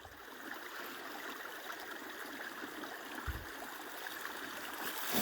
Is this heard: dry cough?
no